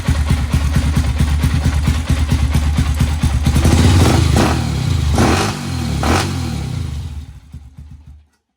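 A 1992 Honda TRX250X ATV engine runs loudly up close with a rapid chugging pulse, revs briefly a couple of times, then cuts off and falls silent.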